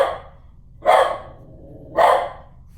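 A dog barks twice outside a front room during a painting session, two loud, separate barks spaced about a second apart with quiet between them and no talking.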